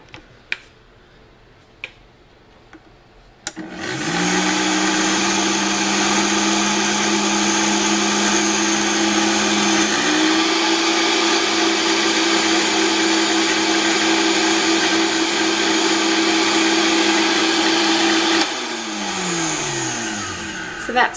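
A blender grinds leftover almond pulp into fine flour, a loud steady whir that starts abruptly after a few faint clicks, shifts pitch slightly midway, then slows and stops near the end.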